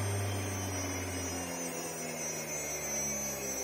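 A Fanuc spindle on a CNC mill, run by a Chinese VFD, hums steadily after being switched off from 6,000 RPM. The low whine drops in pitch as it winds down, faint and continuous with no voices.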